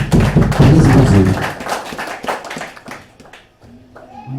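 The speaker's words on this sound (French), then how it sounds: "Applaudis les Seigneur. Applaudis mon Dieu." A church congregation claps loudly and rhythmically alongside singing and voices, with thumping beats, then the clapping thins into quieter scattered sounds and a voice near the end.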